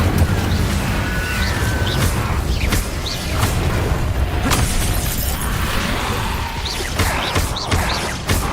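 Fire spell cast in the video game Hogwarts Legacy, a whooshing burst of flame amid dense combat effects, with repeated booming impacts and crackling blasts layered over continuous loud game noise.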